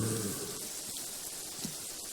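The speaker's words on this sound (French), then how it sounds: "En plus, il pleut, on ne voit rien." Steady rain falls in the video game Minecraft, a continuous soft hiss of drops with faint scattered taps, heard alone at moderate level.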